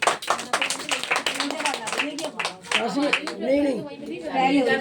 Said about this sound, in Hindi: तालियां बजा दो भैया